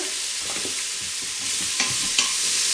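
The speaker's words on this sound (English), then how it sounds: "We're going to saute these up." Diced onions and celery sautéing in a pan while a home cook stirs through a tomato basil soup recipe, giving a steady soft sizzle with scraping and light clinks of the utensil close by.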